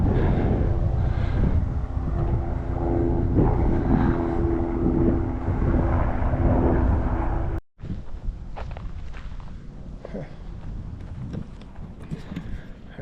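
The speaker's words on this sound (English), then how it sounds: "See the helicopter up there?" A helicopter passes overhead above a campsite at 100 Mile View in Jim Thorpe, Pennsylvania, heard as a steady, broad rumble mixed with wind noise that drops away briefly before continuing more thinly with scattered outdoor rustles.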